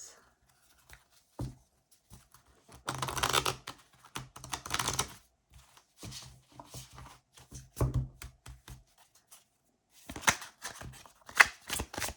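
Thick tarot cards are handled and shuffled in bursts of dry riffling and soft clacking, loudest in two clusters, with quiet pauses and a voice speaking intermittently between them.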